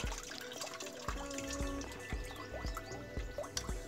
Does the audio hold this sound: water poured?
yes